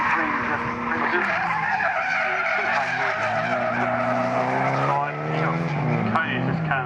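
A car drifts at a motorsport drift competition, tires skidding and squealing continuously in long wavering howls over engine roar, loud and sustained throughout.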